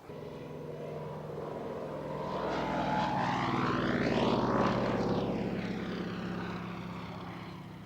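Fairey Swordfish biplane, built by Blackburn Aircraft, passing overhead at Cosford Airshow, its propeller engine droning louder as it approaches and fading as it moves away, with no voices.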